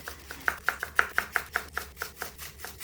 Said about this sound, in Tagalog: Medyo maninipis at maliliit lang ang pagkakahiwa natin dito sa ating green onion.